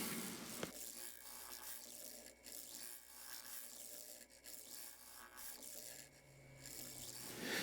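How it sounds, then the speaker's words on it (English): A Robert Sorby hardwood scraper takes final finishing passes on the rim of a turned wooden plank plate on a lathe. It makes a steady, close, raspy rubbing hiss with a sharp tick near the start and small fluctuations as the tool is tilted. "These are just the final finishing scrapes using the Robert Sorby hardwood scraper."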